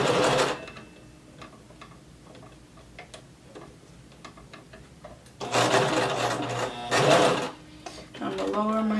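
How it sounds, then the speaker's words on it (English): A sewing machine stitches a maxi skirt seam in quick, rattling bursts: a short run at the start, then a longer, louder run near the end, with quiet ticking and a person speaking between them. "So I'm going to sew up."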